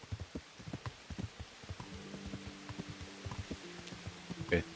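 Steady rain in the medieval video game Kingdom Come Deliverance, a soft continuous patter broken by scattered drips and dull thuds, with a low sustained tone entering partway through and no voices.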